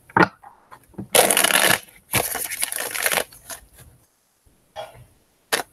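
A tarot card deck is shuffled in several bursts of riffling and shuffling, close and crisp, with short quiet gaps between them and no talking.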